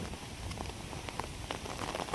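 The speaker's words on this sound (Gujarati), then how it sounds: "છાંટા ચાલુ છે" Light drizzle falls outdoors in the rainy season, a soft, even patter of drops with scattered faint taps over a steady low background.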